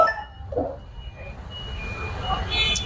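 An electric bike gives a few short, thin electronic beeps as it is switched on, fairly faint over low background noise and outdoor murmur.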